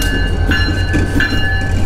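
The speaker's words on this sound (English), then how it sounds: "Let's see what they got here while the train's moving along." A train rolls along the tracks through the town of Aberdeen, North Carolina, giving a steady, close rumble of wheels and wagons with a faint ringing metallic tone running through it for the whole stretch.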